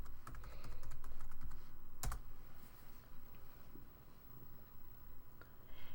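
A password is typed on a computer keyboard in quick, faint clicking keystrokes clustered at the start, followed by a sharper key tap and then sparse, quieter clicks in a quiet room.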